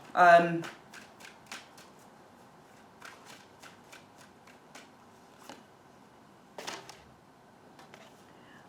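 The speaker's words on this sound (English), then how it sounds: "I'm going to get another card." Tarot cards drawn and shuffled during a reading, making a quick flurry of crisp card flicks and snaps, then scattered light clicks and taps at close range, with a voice talking in places.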